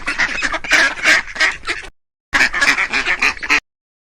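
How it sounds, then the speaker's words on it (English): A duck quacks in two loud, rapid bursts of raspy calls separated by a short silence, close to the microphone. "duck"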